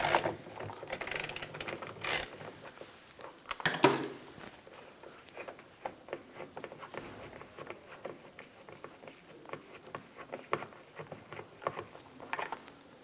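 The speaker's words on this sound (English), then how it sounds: "Using a T30 socket, take this screw out." A T30 socket ratchet backs a screw out during rear view camera work on a 2010-2016 Cadillac SRX, with repeated close clicking pawl ticks and small mechanical rattles.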